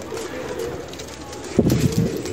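Pigeons of several breeds, including flying pigeons, coo close by in low, throaty bursts that swell near the end, with faint rustling and ambient noise behind them.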